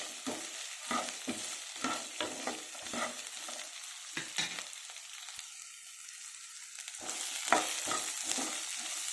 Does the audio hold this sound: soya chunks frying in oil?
yes